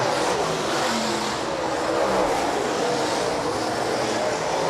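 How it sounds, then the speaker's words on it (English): Late model race cars at Rapid Speedway during a Tri-State Late Model feature, a loud continuous engine roar with a revving swell, heard from a distance without commentary. "Justin Zeitner now looks to get by Blair Norduff with Chad Olson leading"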